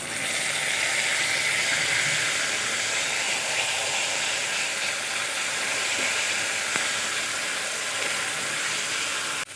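Tomato paste hits browned fried onions in a pan for a spicy bhola fish curry, giving a steady, close, continuous sizzle and hiss that holds evenly throughout with no talking.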